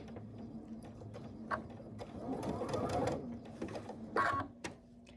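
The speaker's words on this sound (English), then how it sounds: "I gotta remember all the things with this sewing machine" A sewing machine stitches a towel and fabric together for a dog bed, running in short, fairly quiet whirring bursts with small mechanical clicks in between.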